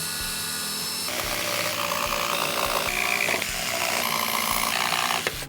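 A power saw runs continuously and loudly through clamped plywood pieces, its pitch shifting slightly as it cuts, with no talking.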